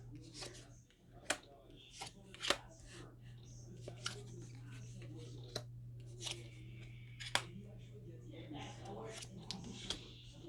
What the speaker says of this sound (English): I'm just going to lay the cards out.